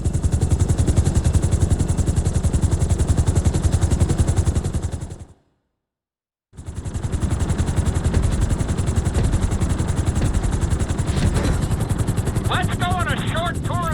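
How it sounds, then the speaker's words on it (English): A helicopter in Grand Theft Auto 5 flies with a steady, dense rotor and engine drone, loud and continuous, broken by a brief silent gap midway, with faint chirping tones near the end. "we're going to put you in a helicopter for this lesson"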